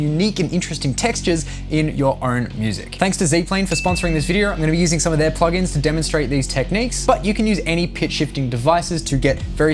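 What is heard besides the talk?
No everyday noise stands out behind the speech.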